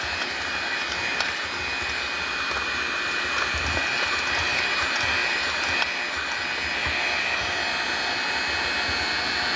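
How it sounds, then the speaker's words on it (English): An electric hand mixer runs steadily with a small attachment while bread dough is made, giving off a continuous whirring motor drone with a faint high whine and no break in the sound. "I'm using this little attachment to my hand mixer"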